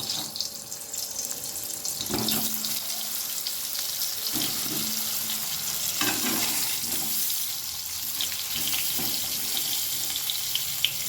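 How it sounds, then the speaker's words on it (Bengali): Salted, turmeric-coated pointed gourd pieces frying in hot white oil, a steady sizzle with occasional stirring clatters, close and continuous with no talk. "এখন গরম তেলের মধ্যে আমি লবণ আর হলুদ মাখানো পটলগুলো ভেজে নেব"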